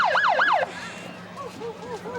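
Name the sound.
siren of a vehicle in a parade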